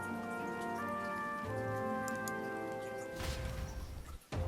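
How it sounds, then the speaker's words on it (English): Pouring rain patters steadily in a Metaphor: ReFantazio video game cutscene, blended under sustained musical tones before a louder rush of rain and a sudden brief dip. "Just like tonight, it was pouring rain."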